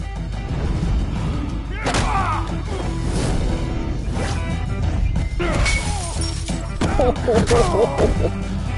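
Heavy crashes and smashing impacts during a brawl in the Batman Telltale series game, several loud hits and shattering bursts over a dense rumbling score, with a voice briefly heard.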